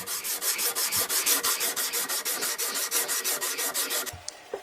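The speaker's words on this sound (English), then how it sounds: "now I'm hand sanding it to all the vertical grinder marks are gone" Rhythmic back-and-forth rasping of sandpaper hand sanding a steel parang blade made from a sawblade, about twenty quick, even strokes, close and loud, stopping abruptly near the end.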